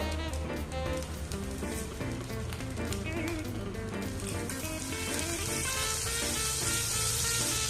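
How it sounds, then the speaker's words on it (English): Two tablespoons of butter melting in a pan: a steady, bright sizzle and crackle runs continuously, nearby and moderately loud, under a layer of background music. "let the butter melt a little bit"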